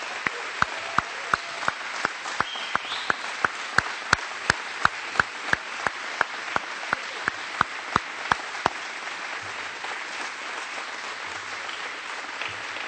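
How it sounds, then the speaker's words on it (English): Crowd at a budget-signing event applauding legislators, a steady wash of clapping over a regular series of sharp, loud clicks that stop partway through while the applause carries on alone. "Let's give them a big round of applause as well"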